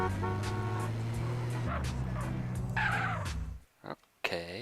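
A car drives in GTA San Andreas with a loud engine drone and tire skid, followed by a few abrupt game sound effects as the engine noise cuts off near the end.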